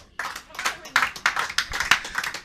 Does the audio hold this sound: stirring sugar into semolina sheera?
no